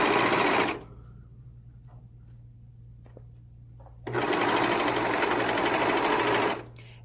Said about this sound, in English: So just sew right off the end